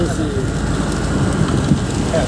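Heavy rain pours in the mountain ghat near Rayagada, Odisha, a dense continuous hiss and patter close by, with someone talking over it.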